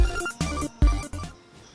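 A phone ringtone plays for an incoming call, a repeating melodic tone in loud bursts, with four pulses close and clear and no talking over it.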